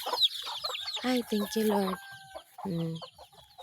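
Native chickens clucking and a rooster crowing at a backyard farm, several close birds calling in short bursts and drawn-out crows, with someone briefly speaking among them.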